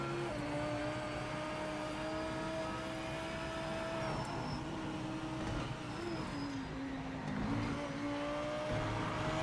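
Race car engine in Project Motor Racing holds a steady high whine that dips and rises through gear changes, loud and continuous with no voices.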